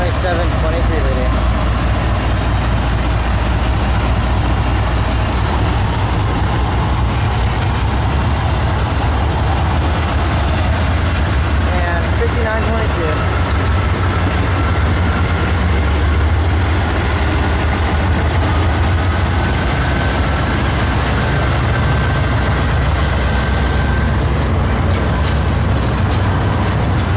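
Canadian Pacific 2723 train rolling past on a Puget Sound line, a steady loud rumble of engine and wheels with constant low drone and rail noise throughout, no pauses.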